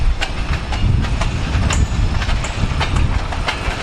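Freight train rolling past at close range, with a deep heavy rumble from the locomotive's power and a rhythmic clickety-clack of wheels over rail joints, steady and loud throughout.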